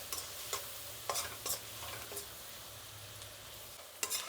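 Onions frying in a pan for an egg dum biryani, with a low steady sizzle and several sharp scraping stirs of a spatula at irregular intervals, moderately quiet and close.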